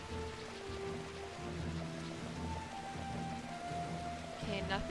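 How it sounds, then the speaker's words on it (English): Steady rain falls in the video game Final Fantasy XII, a continuous soft hiss of drops under the game's music, evenly sustained throughout. "Okay, now it's raining, so it's definitely not sunny."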